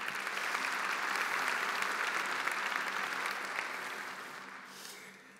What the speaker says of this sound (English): So let's join in offering our sponsors a big round of applause.